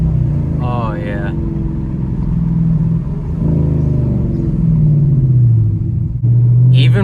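A car fitted with a Flowmaster Outlaw catback exhaust revs loudly, deep rumbling swells rising and falling several times, while people talk briefly over it.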